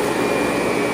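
Eureka TheBoss 5 amp vacuum cleaner running with its small motor, a steady loud whir that holds level from start to finish with no talking.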